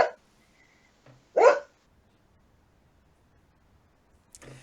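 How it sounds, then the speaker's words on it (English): A dog gives a few sharp, separate barks, close by, with long quiet gaps between them in an otherwise still room. "Sorry, that's my dog."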